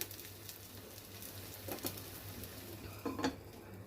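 A bun dosa fries on a pan over a low flame with a faint, steady sizzle, broken by a few soft clinks of a utensil against the pan near the end.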